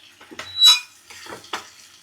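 Ridge gourd and egg are stirred as they fry in a pan, heard as a few short, close scraping bursts separated by near silence, without speech.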